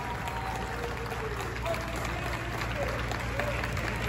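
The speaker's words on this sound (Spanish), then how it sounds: "¡Aplausos, por favor!" An audience applauds at a Guinness world record ceremony for the largest jar of strawberry agua fresca in Irapuato, a steady mass of clapping from a crowd with voices mixed in.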